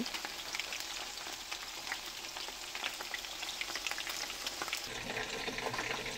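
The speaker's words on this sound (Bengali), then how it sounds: "এই ভাজা হচ্ছে" Food for chilli chicken fries in a pan with a constant soft sizzle and scattered crackles, heard up close with no talking.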